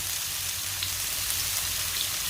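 Onions sauté in hot oil with a soft, steady sizzle and faint crackle, continuous and fairly quiet, with no one talking.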